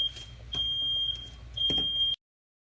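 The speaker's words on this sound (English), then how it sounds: "I hate that old sensitive smoke detector." A high-pitched electronic alarm beeps repeatedly in short, evenly spaced chirps over a low background hum, then cuts off.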